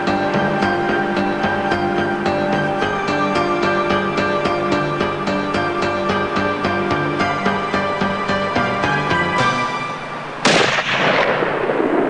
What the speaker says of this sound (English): Shot. That was a good shot.